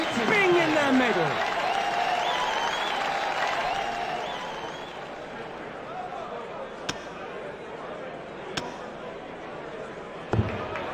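A darts crowd at the PDC World Championship breaking into loud applause and cheers that gradually fade, with a voice talking over the noise and a few sharp thuds near the end.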